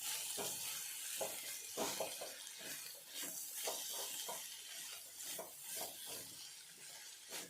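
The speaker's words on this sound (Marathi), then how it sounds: "इथे आपण परत याला छानपैकी मिक्स करणार आहोत" Black-eyed pea pods being stirred with salt in a hot pan, a continuous soft sizzle under repeated scraping and clinking of a spoon against the metal, close and without talk.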